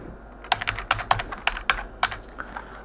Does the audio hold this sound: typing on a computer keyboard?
yes